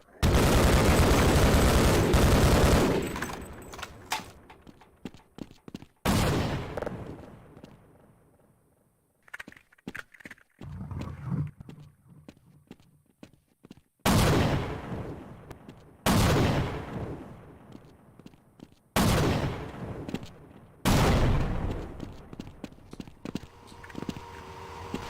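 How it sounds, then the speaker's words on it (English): An F-16 carpet-bombs a road in the PS2 version of Half-Life: a series of loud, close explosions booms in bursts, each blast followed by a rumbling decay and quieter gaps of debris and gunfire between them. "Leave it to an F-16 to carpet bomb the whole road."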